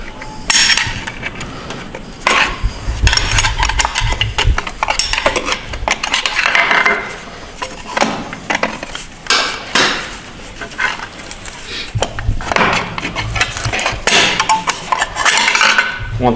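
Metal clinks, taps and scrapes come from a Ford 4R100 transmission teardown as a snap ring is pressed and removed, a dense, steady stream of close tool-on-metal sounds with no talk.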